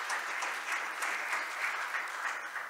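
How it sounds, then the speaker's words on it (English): Conference audience at an international IP court session gives a steady round of applause, even and continuous throughout, with no voices over it. "Please give them a big round of applause once again."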